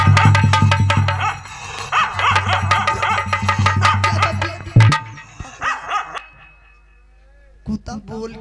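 A dog barks in a village setting, with a few sharp yips and barks near the end, after a stretch of loud talk and music-like voices over a low steady hum.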